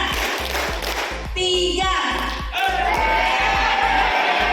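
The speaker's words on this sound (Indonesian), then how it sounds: "Tepuk 1, tepuk 2, tepuk 3." A group of teachers at an Indonesian teacher-training session claps together in a rhythmic one-two-three pattern. The claps land as repeated, evenly spaced bursts, with crowd voices and background sound mixed underneath.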